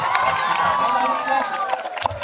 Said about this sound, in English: please give a round of applause for Red House securing 100 points